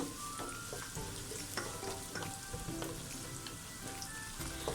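Onions, cashews and raisins sauté in ghee for Malabar ghee rice, giving a dense, steady sizzle close by, with scattered spatula scrapes and pops throughout and no voices.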